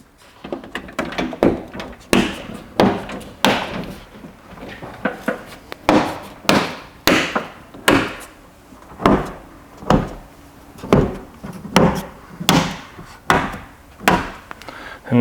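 Replica door cards being pressed onto a VW T3 door, a series of roughly a dozen sharp thumps and knocks at fairly even intervals, close and fairly loud, with some handling noise in between.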